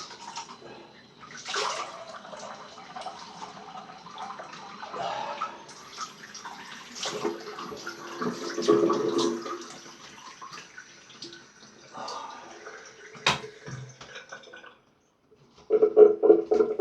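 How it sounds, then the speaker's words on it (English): Water gurgles and trickles as a bathroom basin drains after a shave, with soft splashes and drips coming and going close by and a brief silence before a louder burst of splashing at the end. "I'll just drain some water from the basin."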